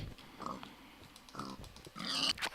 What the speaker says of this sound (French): Je tue le cochon qui est là parce que la bouffe c'est important.